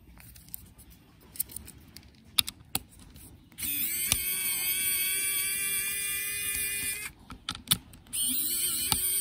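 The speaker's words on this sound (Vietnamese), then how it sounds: "Bây giờ mình tiếp tục vặn hai cái con ốc này ra này." Screws are being turned out of an LG XBoom Go PL2 portable speaker, with scattered clicks and ratcheting ticks followed by sustained whirring stretches of a driver, close and fairly loud.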